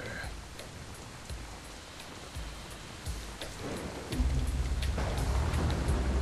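Heavy rain from the video game Metal Gear Solid 2 hisses steadily across the whole stretch, with a deeper rumble swelling in for the last couple of seconds.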